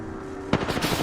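Video game gunfire striking the player: a burst of sharp impacts around the midpoint, then several more rapid shots over steady background game sound.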